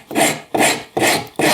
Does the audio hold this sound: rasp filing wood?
yes